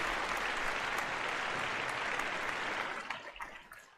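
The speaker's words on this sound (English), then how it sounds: "And a bigger round of applause." A studio audience breaks into steady, sustained applause that holds at full level for about three seconds, then thins out into a few scattered claps as it fades.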